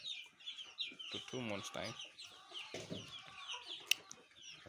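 Chickens clucking and calling at a poultry farm stocked with broiler birds, a busy overlapping flock close by, with someone speaking briefly over them.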